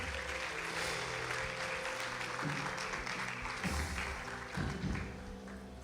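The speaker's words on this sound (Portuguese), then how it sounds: "Tome o seu lugar aplaudindo ao Senhor." Church congregation clapping along during a worship service, a steady dense wash of applause with a low musical hum underneath, fairly distant and even throughout.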